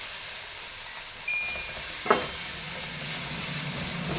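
Ginger garlic paste frying in a pan for gobi fried rice, a steady close sizzle and hiss with a brief stir or scrape midway, no voices.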